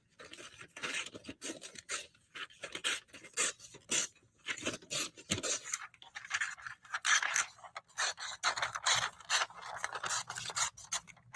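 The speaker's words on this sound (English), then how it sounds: "We're just going to cut a big old circle out of it." Scissors snip a circle out of newspaper in a steady run of crisp, close cuts and paper rustles, with short pauses between strokes.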